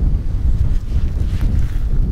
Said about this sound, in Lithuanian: Vėjukas yra, bet sakė, ryte bus gan ramu.